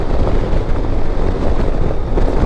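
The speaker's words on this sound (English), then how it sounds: "it is very windy right now and I hope you can hear me over that wind" Strong wind roars steadily against the microphone while riding a 2024 Harley-Davidson Street Glide motorcycle, a loud continuous buffeting rumble with no pauses throughout.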